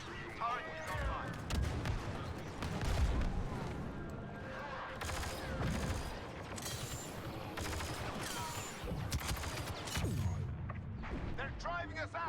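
A turret firing in a video game amid a battle, with bursts of rapid shots, clanking impacts and bright electronic tones scattered across a busy mix, while voices talk over the action.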